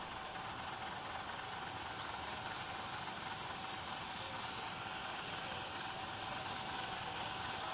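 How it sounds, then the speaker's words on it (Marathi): A steady, distant helicopter engine drones evenly before takeoff at a rally ground, a constant mechanical whine over a broad rumbling hiss. "जे हेलिकॉप्टर सुरू झालेलं आहे"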